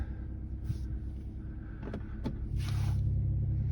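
A BMW G42 M240i with a muffler delete idling in sport mode while warmed up: a steady low, fairly quiet rumble with a few clicks and a light mechanical whir, the drone deepening slightly toward the end.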